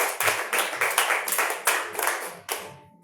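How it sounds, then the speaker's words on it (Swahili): A church congregation claps in a roughly steady rhythm of about eight sharp, close hand claps that fade out near the end. "Tupige Kevin makofi mazuri."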